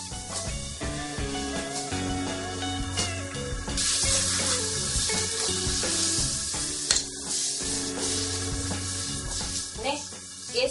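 Vegetables for vegetarian Hakka noodles are tossed and sautéed over high heat in a pan, with a steady sizzle and stirring clatter running throughout under continuous background music.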